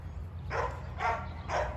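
A dog gives three sharp barks about half a second apart, moderately close, over a low background hum.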